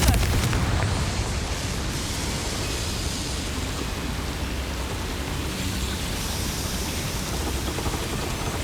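A Confringo explosion spell cast in the video game Hogwarts Legacy: a loud burst at the start that fades into a sustained broad rumbling roar, like fire and debris, continuing steadily for several seconds with no talk.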